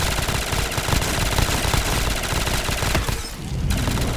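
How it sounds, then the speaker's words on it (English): Rapid, loud automatic gunfire in Call of Duty Zombies while shooting at zombies, dense continuous bursts with only a brief dip near the end. "Keep shooting them,"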